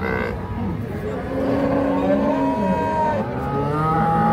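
A Holstein Friesian dairy cow and her month-old calf moo close by in a long, drawn-out bellow, the call rising and sliding over a few seconds.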